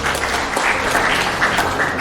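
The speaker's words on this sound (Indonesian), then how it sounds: "Tepuk tangan untuk Pansus terap." A crowd at a gathering for the TRAP special committee claps loudly and steadily, a dense close applause with no talk.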